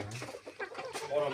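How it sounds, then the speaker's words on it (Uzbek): Chicks and chickens cluck in a short, faint burst of overlapping calls on a farm, with someone speaking over them close by. "mana men jo'jalardan olib ketyapman mana"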